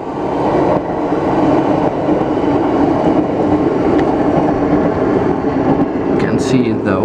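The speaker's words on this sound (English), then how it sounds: "Another train is coming." A train rumbles past at night during a heavy thunderstorm in Grootebroek, a loud, steady, continuous roar that fills the whole stretch with broad low-end noise.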